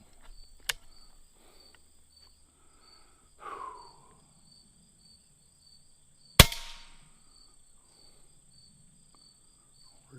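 Umarex Origin air rifle fired at a splatter target outdoors, two sharp cracks several seconds apart over steady insect chirping, with a soft rustle between them.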